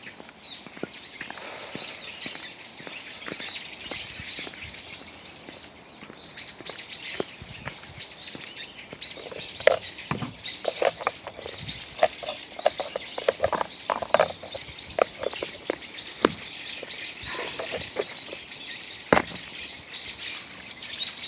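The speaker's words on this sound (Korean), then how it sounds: "새소리 들리시죠?" Birds chirp and tweet steadily outdoors over a soft, constant background hiss, with brighter calls popping up now and then, fairly close.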